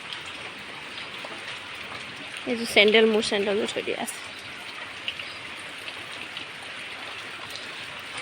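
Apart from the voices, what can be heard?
light rain falling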